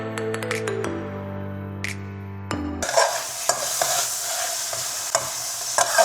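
Mutton frying in a pan with onions, salt and turmeric while being stirred: a spoon scrapes and clatters in the first seconds, then a steady, loud sizzle fills the rest, broken by occasional stirring knocks.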